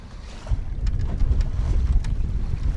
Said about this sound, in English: Oh, the wind is picking up right now.